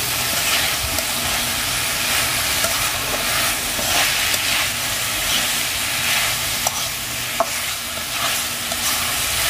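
Vegetable bhaji fries in oil in a pan as it is stirred, a constant close sizzle broken by scraping and clattering strokes of the spatula, with one sharper clank partway through.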